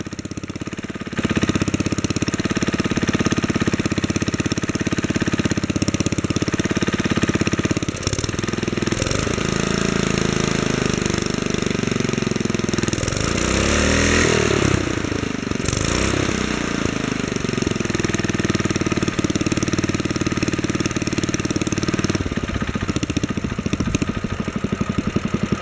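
A Wheel Horse 704 small engine with a faulty fuel pump over-revs loud and steady, its pitch surging up and down in uneven swells as it races, staying constant throughout without talk.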